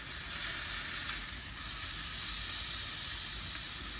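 Food searing in a pan on a camp stove while car camping in the rain, giving a steady, even hiss close by that holds for the whole stretch, with no voices.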